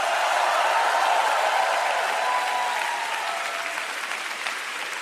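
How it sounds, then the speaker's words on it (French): Church congregation applauding and cheering at a service in Singapore, a dense, sustained wash of clapping and crowd noise that starts loud and gradually tapers off over several seconds. "je pensais que vous seriez debout, applaudissant et criant"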